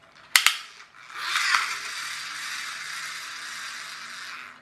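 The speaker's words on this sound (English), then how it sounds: "It's also got a ratchet effect there, sort of slipping clutch" A flywheel-powered 4x4 toy monster truck's slipping ratchet clutch, heard as a couple of sharp clicks followed by a steady close-up whirring buzz of the spinning gearing, alone with no voices.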